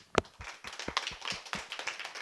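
Applause at a church book concert rings out with irregular claps, a sharp clap first, then a loose patter of several hands clapping nearby.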